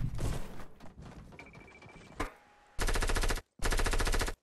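Video game gunfire: sharp shots and a pause, then two loud sustained bursts of rapid automatic fire, close and dominant, with a brief tonal chime earlier.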